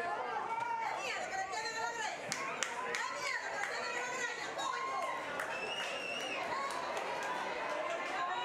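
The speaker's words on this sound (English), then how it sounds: "The crowd liking what they see," A stadium crowd at a Cayman Islands versus Dominican Republic women's football qualifier chatters, claps and swells in a steady roar, with scattered shouts, under continuous commentary.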